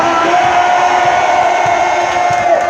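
A church congregation at a special 8 March service cheers and acclaims, a loud, steady wall of crowd voices with shouts and whoops rising from it, and a sustained musical tone running underneath throughout.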